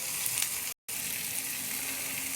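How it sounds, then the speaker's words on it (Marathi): Onions, green chillies, ginger and garlic fry in a pan over medium heat, giving a steady close sizzle with a brief dropout partway through. "याला मीडियम आचेवरच फ्राय करा"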